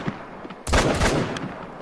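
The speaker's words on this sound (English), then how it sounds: "Let me fire all 5 rounds." Rifle shots in theHunter Call of the Wild hunting game, loud close blasts in quick succession with ringing echo, alone without talk.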